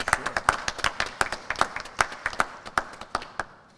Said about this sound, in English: We should get a round of applause here